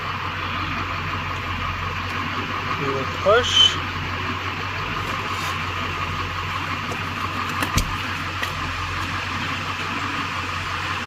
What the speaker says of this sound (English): As you can see, the truck is running.